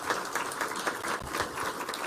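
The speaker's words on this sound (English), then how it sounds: "Let's clap for her as she comes." An audience at a ministerial school meals meeting in Nairobi claps steadily as Cindy McCain, World Food Programme director, walks to the stage, a dense, even patter of many hands.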